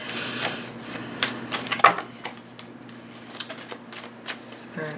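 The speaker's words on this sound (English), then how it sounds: "I'm just going to keep shuffling for a minute here." A deck of tarot cards is shuffled close up, with quick papery riffles and soft taps in an uneven rhythm and no talking.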